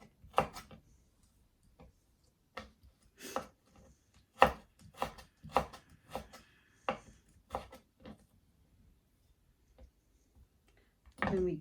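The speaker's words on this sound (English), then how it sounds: "And then just chop it." A knife chops salmon ingredients into small julienne pieces on a cutting board, a run of sharp, close, separate knocks in irregular bursts, with a louder scrape at the end.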